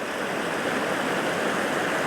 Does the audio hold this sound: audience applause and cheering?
no